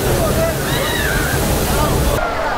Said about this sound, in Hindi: तो ये कैंपटी वाटरफॉल मैंने दिखाया है इस तरफ में